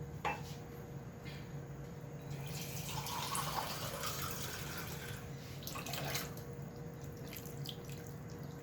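Fish dish simmering and bubbling in a pot on the stove, a steady watery boil with soft crackles and bursts throughout, close and moderately quiet.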